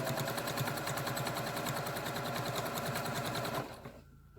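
Sewing machine stitching binding onto a quilt, a loud, rapid, even mechanical chatter that runs close up for several seconds before stopping abruptly near the end.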